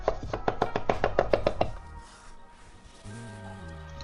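Tiny garlic cloves get smashed on a board with a rapid burst of about eight sharp knocks, close and fairly loud, followed by a quieter stretch of low rumbling and faint background tones.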